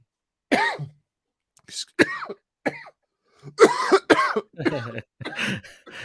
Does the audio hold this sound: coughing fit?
yes